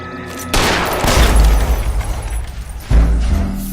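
Video game gunfire, a dense, loud burst of shots and booming impacts rolling over a few seconds, with a second heavy blast near the end and a musical tone underneath.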